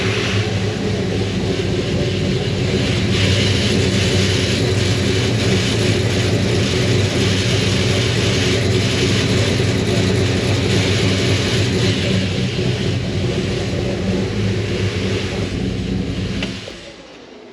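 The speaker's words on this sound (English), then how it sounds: "I've gotta look and see what's rattling under there" A running big-block 402 engine in a 1972 Chevy Suburban drones loudly and steadily, a low rumble with a faint rattle, before it cuts off at the end.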